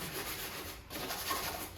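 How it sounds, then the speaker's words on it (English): Steady abrasive rubbing, a continuous scratchy hiss of sandpaper on a sanding block worked back and forth over wood, close by with no talking. "Sand that down."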